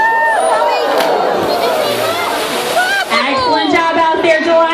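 A dolphin's cannonball splash at a marine show sends up a loud, washing spray of water while a crowd cheers and shouts, with voices throughout.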